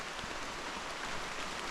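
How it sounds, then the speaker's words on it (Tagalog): Heavy rain on a mountain peak near Mainit, Surigao del Norte, hisses as a steady, even wash with no breaks or voices. "kusog manggod ang ulan"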